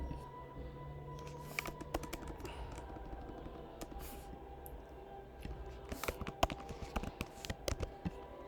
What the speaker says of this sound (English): let me enter the name, Trishul or Stinson